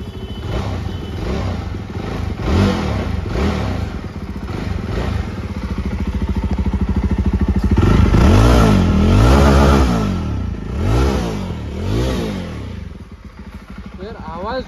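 Jawa 42 Bobber 2024 motorcycle with a roughly 300 cc engine and twin exhausts, revved up close in repeated throttle blips that rise and fall over a loud thumping idle.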